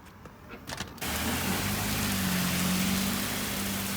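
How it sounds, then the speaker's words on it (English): Rain falls on a wet day as a steady, dense hiss that starts abruptly after a quieter first second and stays loud and close, with a faint low rumble underneath. "yeah, it's raining."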